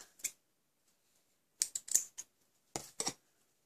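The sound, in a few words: scissors cutting ribbon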